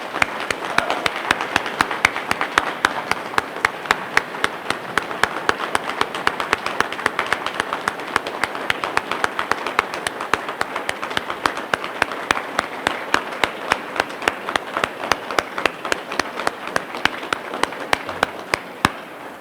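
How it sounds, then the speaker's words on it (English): At a Veterans Day ceremony, a crowd gives steady, evenly paced clapping for two World War II veterans. The claps hold a regular rhythm for nearly twenty seconds without fading. "A hearty round of applause for these two distinguished veterans"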